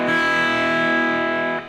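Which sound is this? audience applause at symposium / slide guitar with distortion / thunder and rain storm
slide guitar with distortion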